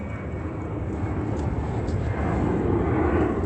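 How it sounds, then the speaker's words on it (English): A commercial airliner passes overhead, its engines giving a steady, fairly distant roar that swells slightly toward the end. "That's a commercial airline plane."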